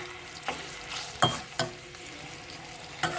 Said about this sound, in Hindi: अब हम इसमें ये चिकन शामिल कर देंगे और आग हमने बिल्कुल हल्की रख दी है ताकि चिकन जो है नीचे से चिपके ना।